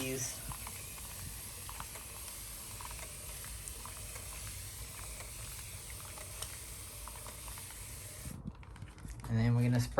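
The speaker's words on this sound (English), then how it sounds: "Spray the babies." A spray bottle mists liquid fertilizer over carnivorous plants with a steady, close hiss that runs for about eight seconds, then cuts off before a brief handling noise at the end.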